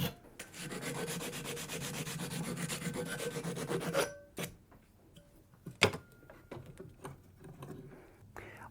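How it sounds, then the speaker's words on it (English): A hand file rasps against the edges of a copper bracelet clamped in a bench vise, a dense run of close scraping strokes that stops abruptly, followed by a few sparse knocks and handling taps. "I'm going to put it back into my bench vise and just give it a little bit more filing."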